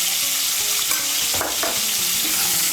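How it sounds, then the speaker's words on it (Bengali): Capsicum pieces fry in hot oil with salt for a vegetarian capsicum paneer dish, giving a loud, continuous close-up sizzle with a brief stirring scrape partway through and no voices. "এই তেলের মধ্যে ক্যাপসিকামগুলো একটু ভেজে নেব।"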